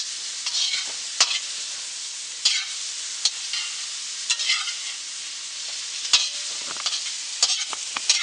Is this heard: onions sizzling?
yes